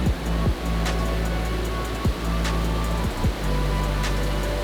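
The Buna River rushes beside a monastery near Mostar, a loud, continuous broadband roar of moving water with no voices and a few low thumps mixed in.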